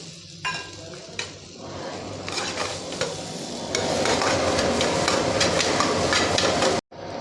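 Mutton pieces go into a sizzling hotel-style Kolhapur gravy: a few sharp clanks first, then a loud, steady sizzle and bubbling close up, cutting off abruptly near the end.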